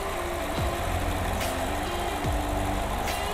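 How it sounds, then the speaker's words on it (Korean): A Nissan Altima 2.5 engine idles steadily at close range, a continuous even rumble with no other sounds standing out. "엔진 소리도 일정합니다"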